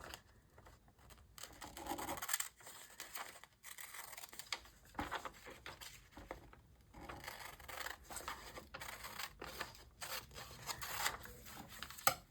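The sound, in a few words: scissors trimming a paper doll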